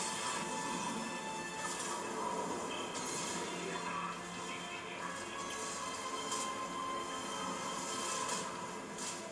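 A train in the video game Dead Space 3 rumbles along steadily, with metallic squeals and scraping bursts recurring over a continuous loud drone, and no talk.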